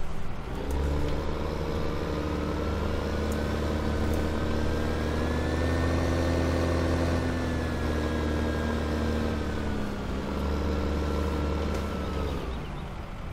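Tractor engine in Farming Simulator 2015 runs at a steady, loud drone for over ten seconds, pitch rising slightly as it revs, then settling back, with no voices.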